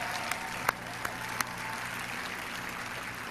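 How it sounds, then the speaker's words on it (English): A crowd applauds steadily at Bethesda's E3 2016 conference, a dense wash of clapping with a few louder individual claps standing out, heard from a moderate distance. "Can I please have another round of applause"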